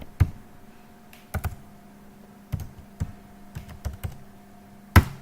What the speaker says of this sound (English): Let me just type phonegap.com.